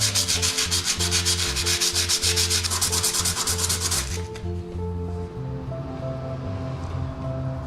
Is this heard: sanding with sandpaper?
yes